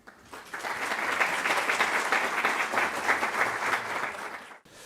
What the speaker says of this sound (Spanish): Así que recibámoslo con un fuerte aplauso.